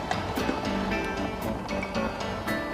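Racing bicycles clatter over the cobblestones of the 1990 Paris–Roubaix, captured from a motorbike camera as a steady rattling roar with sharp jolts and wind noise throughout.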